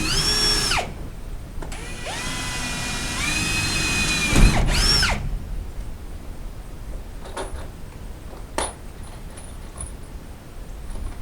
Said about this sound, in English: I'm just going to pre-drill a hole and then run them screws in there.